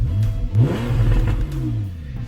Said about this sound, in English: Now I'm going to go ahead and put it on the sport exhaust, and I'll let you hear it real quick.